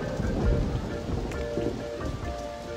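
Rain falling in the video game Roller Coaster Tycoon 2, a steady dense patter with a low rumble like thunder, heard alone and without talking.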